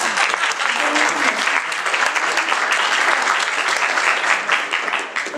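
Audience at a 2013 Republican candidates forum in Roanoke, Virginia applauds a lieutenant governor candidate, a dense, steady wash of many hands clapping for about five seconds with no talk over it.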